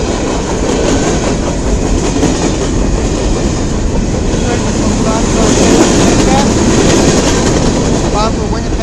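A CN freight train with tanker cars rolls past close by, loud steady rumble and clickety-clack of wheels on rail joints, with a person talking over it.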